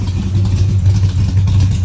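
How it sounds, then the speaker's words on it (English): A 1969 Plymouth Roadrunner idles steadily with a deep, rumbling exhaust burble heard from the rear, close by and continuous, with a faint rhythmic lope and no voices. "let you hear the exhaust in the back"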